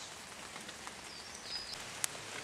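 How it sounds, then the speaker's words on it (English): Rain falling outdoors, a soft steady hiss of drops with a few faint taps and one brief sharp tick, quiet and without talk. "I'm about to get rained out here."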